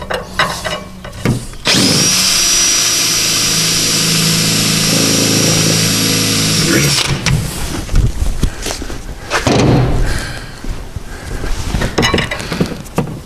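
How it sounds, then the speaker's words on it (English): A 4mm bit drills a hole in a front wheel arch liner on a Fiat 140, a steady loud whine lasting about five seconds, followed by scraping and handling noises. "Then in with me 4mm drill."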